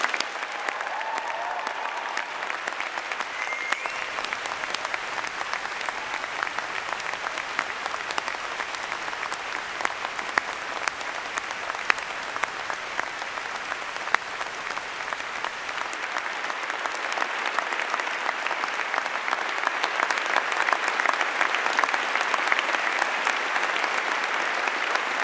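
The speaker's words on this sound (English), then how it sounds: "So a big round of applause." Graduation ceremony audience of a medical faculty giving a long, sustained round of applause, dense clapping from a large crowd that carries steadily throughout with little variation.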